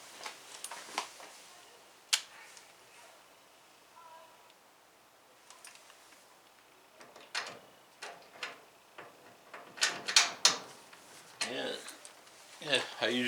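Screws come out of a Maytag Neptune dryer door as a series of scattered sharp metallic clicks and ticks, quiet and close, with a voice audible in places.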